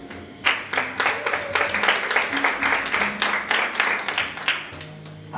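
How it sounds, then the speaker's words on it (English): Steady round of clapping from an audience at a book launch event, many hands beating in a brisk, even rhythm close by, holding strong throughout with a faint low hum beneath. "I expect a better round of applause from us, please."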